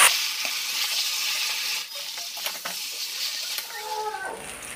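Crushed elephant apple dropped into hot spiced oil, giving a broad hissing sizzle that settles into a softer steady fry with faint stirring scrapes, close up and moderately loud, no talking.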